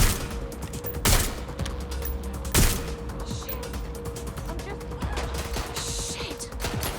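Gunfire in the video game Watch Dogs Legion: two heavy bursts stand out near the start and midway, over a steady bed of game noise, mechanical clicks and faint background voices.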